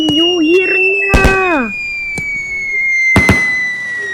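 Fireworks and firecrackers go off on New Year's, with sharp close bangs and crackling bursts against a whistling tone, while people exclaim and shout nearby.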